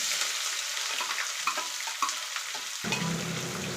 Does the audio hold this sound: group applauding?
no